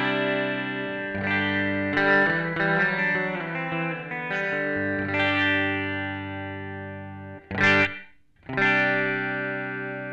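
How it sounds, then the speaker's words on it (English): Distorted electric guitar chords through the plate reverb setting of a Sonicake guitar amp ring out with a short, bright shimmering tail, played alone with a few strums and pauses. "Plate reverb."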